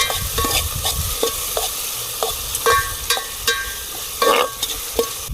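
Ridge gourd curry seasoned with coarse salt cooks in a pan, a spoon scraping and clacking in a steady stirring rhythm about twice a second over a soft, close sizzle, with no voices.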